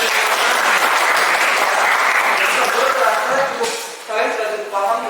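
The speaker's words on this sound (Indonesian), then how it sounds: "Oke, tepuk tangan dulu." A class of students applauds in a classroom, steady dense clapping that fades out toward the end as a voice starts talking over it.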